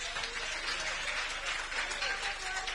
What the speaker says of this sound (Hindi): सब एक बार ताली बजा के हिमांशु जी का स्वागत कर दें